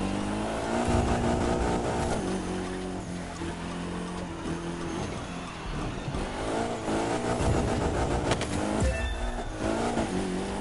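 Car engine in The Crew 2 racing game, sustained revving with shifting pitch as the car drifts through a lap, loud and continuous with brief changes in engine note, no talk over it.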